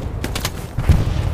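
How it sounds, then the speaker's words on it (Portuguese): Gunfire from Hell Let Loose, an online multiplayer World War II shooter, crackles in a rapid series of sharp shots under dense battlefield rumble, with a heavier thump near the end. "Então mesmo, tô levando tiro."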